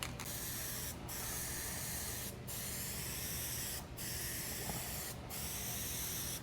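A spray gun lays a light first coat of paint on a 1972 El Camino, a steady hiss broken by short pauses at regular intervals.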